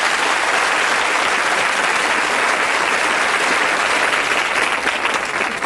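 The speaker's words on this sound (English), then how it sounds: "Give them a nice round of applause." A large studio audience at the 1990 TV game show Bullseye applauds loudly and continuously, a dense wash of clapping that holds steady throughout.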